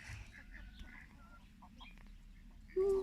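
Chickens cluck and call in a backyard in short, irregular bursts, with a few sharper calls near the end over steady low background noise, and a faint voice occasionally audible.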